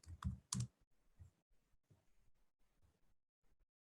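Several quick keyboard keystrokes come in a short burst, loud at first and then lighter and more scattered as typing continues, close by in a quiet room.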